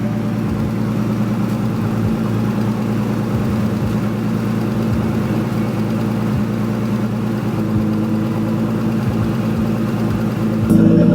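A Nissan R32 Skyline engine with the exhaust removed, running through only the downpipe, idles loud and steady with a deep, raw drone and a slight lift in volume at the very end.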